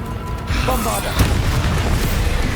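Bombarda explosion spell in Hogwarts Legacy, heard as a sudden booming burst that keeps a loud, roaring tail under other game noise.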